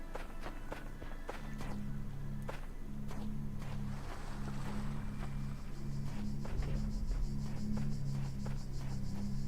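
Ocean waves wash continuously through the ambience of the video game The Talos Principle. The soft, steady surf plays alongside a low drone and a series of short, sharp footstep-like taps.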